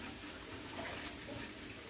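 Warm water pours into a pan for gravy with hamburger meat, a faint, steady splashing hiss lasting a couple of seconds.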